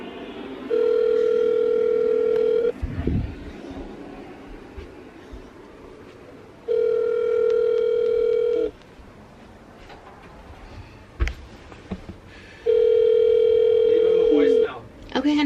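A telephone ringback tone sounds during a call, three long steady beeps separated by pauses of a few seconds, clear and close, with faint background noise between them.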